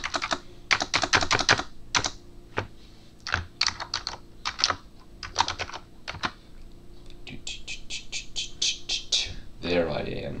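Typing on a computer keyboard for a Scratch project search, with bursts of rapid key clicks separated by pauses, then a faster run of evenly spaced keystrokes near the end, close and clear.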